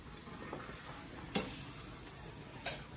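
Shrimp and grits with garlic stirred in a sizzling pan, a soft continuous frying hiss broken by a couple of sharp utensil taps against the pan, close and alone.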